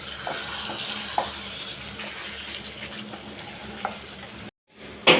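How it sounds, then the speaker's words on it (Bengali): Meat sautéing in a pan gives a steady close sizzle. A few soft scrapes of stirring sound over it, then there is a brief silence and a louder clatter at the end. "তো আর একটু ভালো করে কষিয়ে নেব, বাস।"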